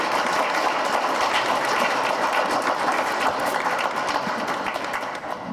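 Applause from a forum audience welcoming a speaker, a dense, steady wash of clapping that holds loud throughout and eases slightly at the end.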